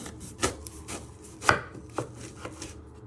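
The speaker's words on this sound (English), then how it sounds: "Then you're going to carefully chop it down the middle." A knife chops an onion on a cutting board, with about seven crisp, close thuds at an uneven, unhurried pace and no talking.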